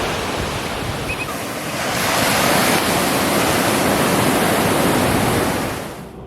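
Ocean waves on the Pacific coast of Chile wash steadily onto the shore as a loud, continuous roar of surf with gusts of wind noise, swelling midway and fading at the end.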